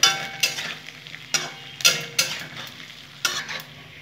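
White stems of Chinese cabbage fry in a pan, with a low sizzle under repeated sharp scrapes and clacks of a spatula stirring against the pan at an uneven rhythm.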